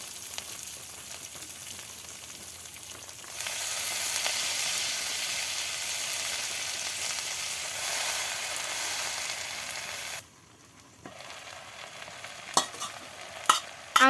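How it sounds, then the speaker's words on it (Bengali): Jute greens with spice paste, salt and turmeric fry in a pan as a loud, steady sizzling hiss for several seconds. The hiss briefly cuts out, then returns with a few sharp utensil knocks near the end. "আম্মু এখন শাকগুলো নেড়ে চেড়ে ভালো করে ভাজি ভাজি করে নেবে।"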